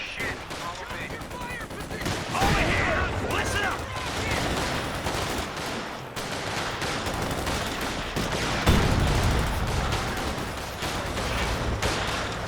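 Strafing run in the video game Company of Heroes 2: dense, sustained bursts of rapid gunfire rattle continuously over loud battle noise, with a brief heavier impact near the end and a voice talking faintly underneath.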